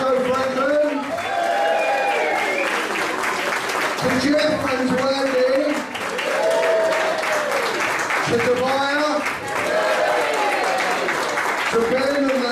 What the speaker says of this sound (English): big round of applause please for the South Downs Ukulele Orchestra